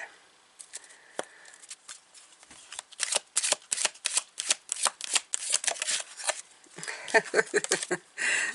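Tarot cards are shuffled by hand in quick, repeated riffling bursts, crisp papery flicks close up against a quiet background.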